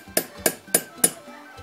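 Tapping a small hand punch to knock holes in a workpiece: four sharp, evenly spaced metallic strikes in quick succession, close and crisp with brief ringing after each.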